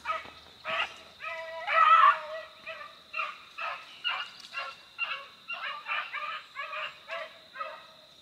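Several young hounds bark and yip excitedly while chasing a rabbit outdoors, a rapid string of sharp, overlapping barks at close range, rising in bursts with brief gaps.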